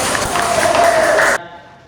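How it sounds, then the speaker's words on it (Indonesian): Classroom of students applauding together during a lesson, a dense, continuous burst of clapping for over a second that cuts off abruptly into quiet room tone. "Tepuk tangan untuk kita semua."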